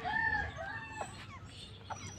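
A rooster crows once nearby, then fainter clucking and chicken calls follow.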